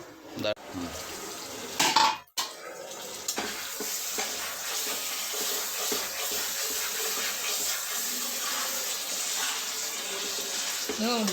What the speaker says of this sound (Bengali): আমি এখন পানি দিয়ে দেবো